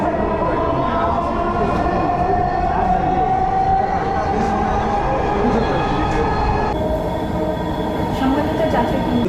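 Dhaka metro rail train running at high speed, about 90 km/h, on an elevated viaduct, heard from inside as a steady loud rumble with a rising whine and faint wheel squeal throughout.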